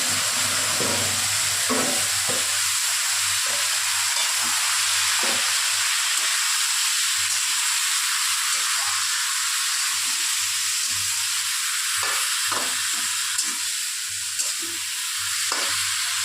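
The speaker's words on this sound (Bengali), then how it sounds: "এই যে ম্যারিনেট করা সয়াবিনটাকে আমি এর মধ্যে দিয়ে দেবো" Marinated soybean chunks fry in hot oil with whole cumin in a pan, giving a loud, steady sizzle with stirring scrapes. It runs unbroken and close for the whole stretch, with no talk.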